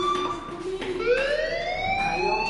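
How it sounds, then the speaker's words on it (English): An alarm wails in a PlayStation 4 game, a loud continuous electronic tone sweeping slowly upward in pitch and holding, with faint game background beneath and no speech. "do you hear that fire alarm?"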